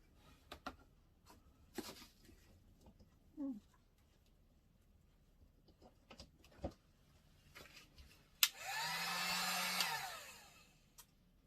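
A Drill Master heat gun from Harbor Freight, used to soften plastic dust collection fittings, blows with a loud, steady whoosh for about two seconds near the end, after scattered quiet handling clicks.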